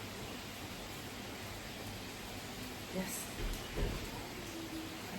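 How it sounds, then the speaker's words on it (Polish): Heavy rain pouring outside during the first downpour in weeks, a steady loud hiss of wash filling the air, with a brief spoken word and a few faint knocks near the end. "Pierwszy deszcz od wielu tygodni. Taki ulewny."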